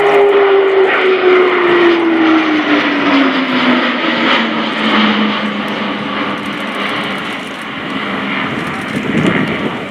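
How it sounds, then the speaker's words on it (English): Airbus A400M Atlas military transport aircraft in a flying display at RIAT 2018, its turboprop engines droning loud and steady with a falling pitch as it passes close, a continuous roar throughout. "This is a brilliant display aeroplane, quite apart from the effective airlifter."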